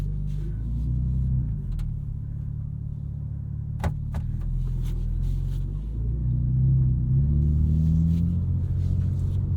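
A 2023 BMW M4 CSL with a titanium exhaust drives on a street, giving a steady, deep engine drone and road rumble heard from inside the cabin, with a few faint clicks over it.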